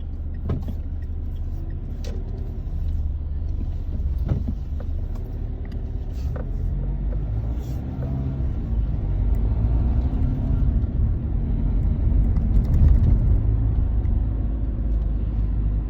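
A 2018 Dacia Sandero Stepway 1.5 dCi with Easy-R automatic gearbox is driven, heard from inside as a constant low engine and road rumble with faint clicks and bumps, building slightly toward the end.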